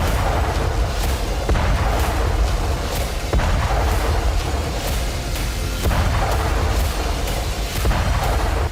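Artillery fire and explosions from a Russian artillery brigade shelling frontline military positions in Ukraine: a dense, loud, continuous roar punctuated by repeated sharp booms throughout.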